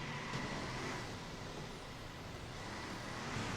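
Stock car engines roaring steadily in the racing game Circuit Superstars, a continuous broadband drone of several cars at once with no talk over it.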